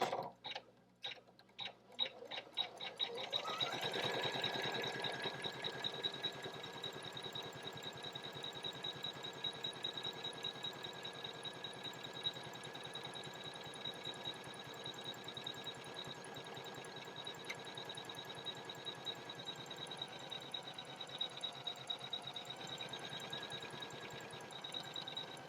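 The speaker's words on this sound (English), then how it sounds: "now I'm ready to embroider it" An Elna Expressive 830 embroidery machine stitches a design, starting with a few separate clicks and then settling into a fast, steady mechanical whirring with even rhythmic ticking that runs on unbroken, close by.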